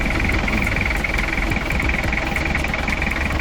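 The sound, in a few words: Toyota Land Cruiser LJ78 5L engine running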